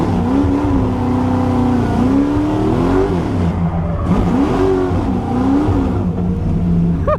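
A BMW fitted with a 632 big block engine revs hard under throttle, a loud, close, deep roar that climbs and falls in repeated surges as the engine pulls.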